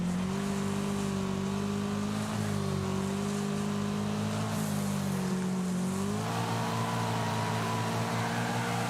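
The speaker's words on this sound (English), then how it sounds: "the sound of this car though, it actually sounds really, really nice. The little inline four" A buzzy little inline four-cylinder car engine in the racing game Wreckfest drones steadily and loudly for the whole stretch, pitch wavering slightly with throttle changes and no talk over it.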